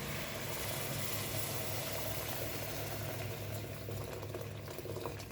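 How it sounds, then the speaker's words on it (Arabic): Boiling water poured over shrimp heads and vegetables in a pot gives a steady, dense bubbling and rushing hiss, continuous and fairly close for several seconds with no talking. "هضيف عليهم ميه مغليه"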